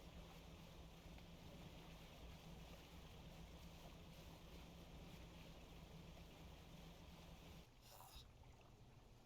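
A boat engine from the fishing video game Dredge drones steadily at low volume over a wash of water and wind, then cuts out briefly near the end before a faint splash.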